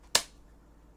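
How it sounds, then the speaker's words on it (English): A single sharp hand clap made to sync audio, one crisp close snap that rings briefly and fades into near silence. "Clap sound."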